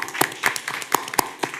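A few scattered hand claps ring out in a city commission meeting room, sparse and irregular over under two seconds, with no talking heard.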